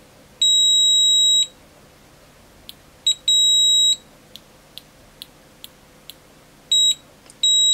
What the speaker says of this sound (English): It does beep.